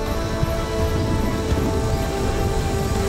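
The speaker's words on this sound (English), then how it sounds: "And then it began to rain." Steady, dense rain pours down on a forest at night during a storm, a constant close hiss with faint pattering and no voices.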